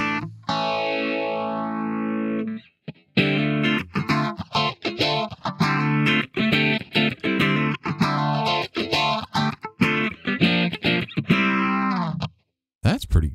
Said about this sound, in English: We got a phaser.